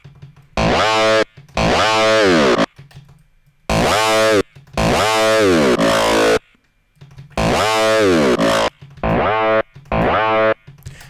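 A gritty, distorted dubstep FM growl bass made in Reason growls in repeated bursts of a second or so, each harshly buzzing and wobbling in tone, separated by short silences.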